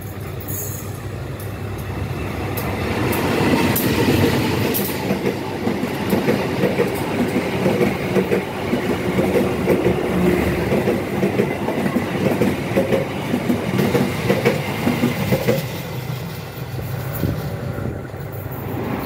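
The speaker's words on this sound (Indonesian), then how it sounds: "Ini kerasa banget kereta api Ciremai sudah dipacu dengan kecepatan tinggi" A train rumbles steadily along the rails at high speed, a constant heavy roar with faint rhythmic clacking, heard from inside a carriage of the Ciremai passenger train in Indonesia, heading toward Bandung.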